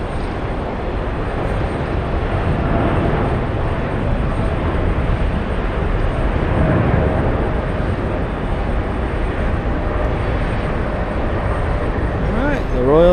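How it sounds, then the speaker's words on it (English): Royal Jordanian Boeing 787 Dreamliner taking off at JFK Airport, a loud sustained engine roar and rumble that stays strong throughout, with people talking over it at times. "the Royal Jordanian Dreamliner lifting off for what is sure to be a fairly long flight to Amman, Jordan"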